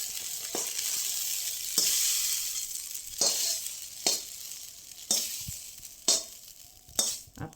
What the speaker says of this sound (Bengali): এই দেখুন ভাত ভাজা